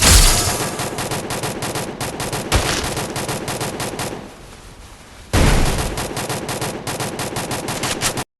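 Loud, rapid automatic gunfire in a Free Fire-style shooting game, with long continuous bursts that break off briefly in the middle and then resume at full force, with no speech over it.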